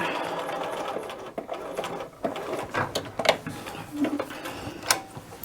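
A domestic sewing machine stitches a dress sleeve seam, its needle running in a steady close whir, broken by short pauses and clicks as the fabric is turned.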